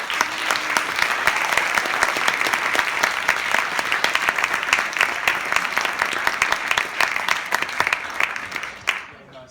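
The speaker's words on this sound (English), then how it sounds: "Big round of applause to the MVP," An audience applauds an MVP award at a school basketball event, a dense, loud burst of clapping that runs steadily for about nine seconds before cutting off abruptly.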